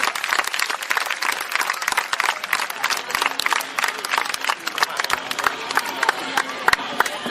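Crowd applause rings out for a Sardinian horse-riding association at an equestrian show in Oristano, a dense outdoor mix of many clapping hands with scattered sharp claps and some cheering throughout.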